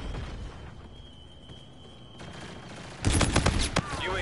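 Video game gunfire: a rapid burst of close, loud shots erupts after a quiet stretch with a faint steady tone, followed by more scattered shots.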